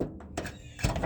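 A truck door with no sound-deadening material slams twice, each a short, hollow, booming thunk close by.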